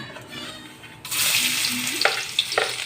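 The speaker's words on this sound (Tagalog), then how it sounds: "Ngayon, magigisa tayo ng bawang" Garlic sautéed in oil left from frying potatoes and sweet potatoes, a sudden loud sizzle as it hits the hot pan, then steady close frying with a few clinks of stirring.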